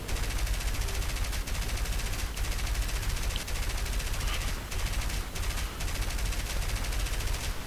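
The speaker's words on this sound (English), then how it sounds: "Gotta be careful not to overheat the cannon or the machine gun." Aircraft cannon and machine gun fire in War Thunder, a dense continuous rattling burst with brief pauses, loud and close, layered over engine roar.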